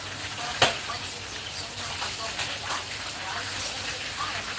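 Food sizzles and crackles in hot cooking oil, a steady frying hiss with one sharp pop near the start and faint stirring throughout.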